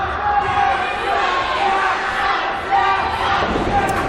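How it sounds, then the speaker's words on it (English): A packed crowd at a live pro wrestling match between two wrestlers roars in a loud, sustained wall of shouting and chanting voices, swelling slightly near the end, with a sharp thud or slap breaking through late on. "Crowd is vibrating this floor"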